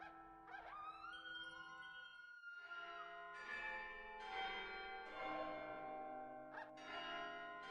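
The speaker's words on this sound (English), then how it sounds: "It's the library chimes." Library chimes ring a slow sequence of resonant bell tones, each strike blooming and lingering into the next, heard from a distance on old broadcast footage with no voices.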